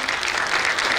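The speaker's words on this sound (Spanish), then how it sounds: "Le brindamos un fuerte aplauso." Brief, full applause from an audience at a rap composition contest event, a dense burst of clapping that fills the whole moment without pause.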